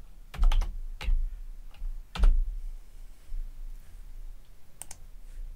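Typing on a computer keyboard while setting up permissions on a website, with a quick cluster of key clicks, a few isolated taps spread out, then a brief final pair of keystrokes, close and without talk.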